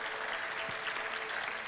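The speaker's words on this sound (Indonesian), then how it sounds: "Kita berikan tepuk tangan buat mereka." Steady, sustained applause from a crowd in a hall, thanking the building's security and cleaning staff; dense, even clapping filling the space with no talk over it.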